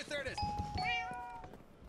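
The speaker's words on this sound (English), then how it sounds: "There is a doorbell." A doorbell chime in Minecraft sounds twice, clear ringing tones fading over about a second, with cat-like meows and faint talk nearby.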